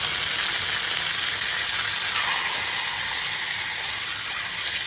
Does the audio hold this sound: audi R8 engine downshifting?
no